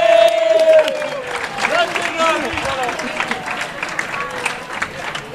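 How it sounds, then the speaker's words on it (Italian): An audience at a national political assembly applauds a departing participant, broad clapping with some crowd murmur, loud at first then steady, with voices talking over it. "un applauso per Italo!"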